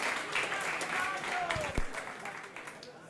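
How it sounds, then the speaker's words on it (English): An audience at an election candidates' meeting claps in a short, moderate burst of applause, heard fairly close. "Can we get another round of applause"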